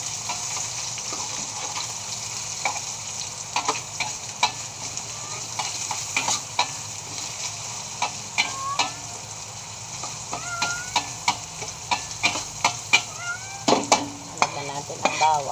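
Onion sizzling in a hot pan with pork for kare-kare, a steady frying hiss broken by repeated close scraping and clinking stirs that grow busier toward the end.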